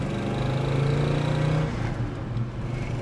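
A 1967 Pontiac GTO downshifts on the road, its engine note rising in a steady loud drone before the revs drop and settle into a lower, rougher idle-like hum inside the cabin.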